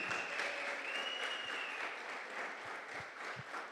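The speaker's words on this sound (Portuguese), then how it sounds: "se vocês aplaudissem eles assim, quando eles estão vindo, eles iam pegar mais confiança" An audience claps steadily for shy children walking in, a continuous patter of many hands throughout at moderate volume, with no talk over it.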